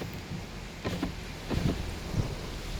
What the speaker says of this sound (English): Windy and rainy and stormy. Rain's coming in.